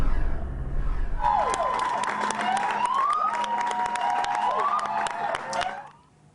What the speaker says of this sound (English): Greeted with cheers and applause today